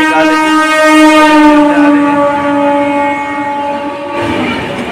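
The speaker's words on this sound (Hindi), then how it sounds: "अभी बेला में लगाई हुई ट्रेन देखिए इधर से जा रही है, देखिए जन शताब्दी जा रही है" A Jan Shatabdi express passenger train passes with a loud, sustained horn blast over a rumble of wheels, close and dominant throughout.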